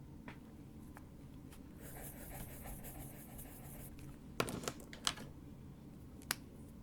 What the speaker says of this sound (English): I'm just scribbling over here to get the ink off.